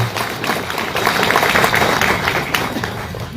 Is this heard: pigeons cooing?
no